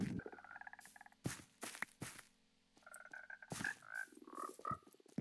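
Frogs croaking in Minecraft 1.19, a run of low repeated croaks with a few brighter tonal calls over steady game ambience, fairly close and no talking.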